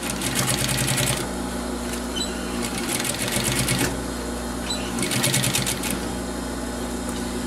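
Sewing machine stitching a synthetic leather crossbody bag, running in three bursts of steady rapid needle clatter with a low motor hum between them, close and fairly loud.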